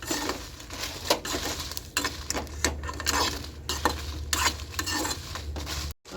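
Red chillies roasting in a little oil over low heat, a spatula scraping and stirring them in the pan with repeated clinks and soft crackling, close and steady, with a brief silent gap near the end.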